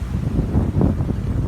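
Strong wind blows outdoors in Ellensburg, Washington, buffeting the microphone with a loud, continuous gusty rumble and no one speaking.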